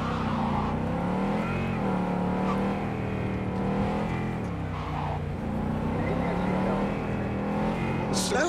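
A car driving in Cyberpunk 2077 hums with a steady engine tone that rises and falls in pitch as it accelerates and eases off, loud and continuous throughout.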